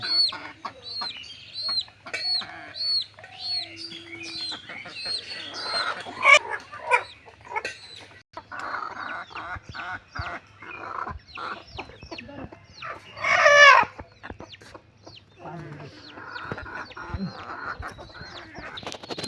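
A rooster clucks repeatedly in short bursts, then lets out a loud crow midway, with other fowl calling nearby against a faint low hum.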